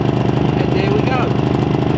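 A Maxpeedingrods MRX3500 portable generator engine runs steadily just after starting, its loud, close, even idle drone holding a constant pulsing rhythm throughout.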